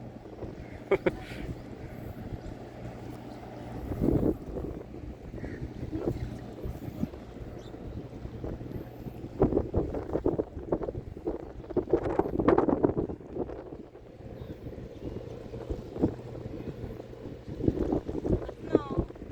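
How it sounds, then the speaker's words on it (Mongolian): Gusty outdoor wind buffets the microphone in hot weather of over thirty degrees, rumbling steadily with stronger bursts throughout, while people talk nearby. "Сайхан салхитай байна."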